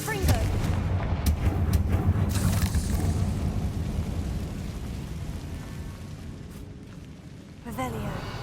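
A Confringo fire spell blasting in Hogwarts Legacy, a game setting: dense booming explosive bursts rumble continuously for several seconds at close range, with a fresh burst near the end.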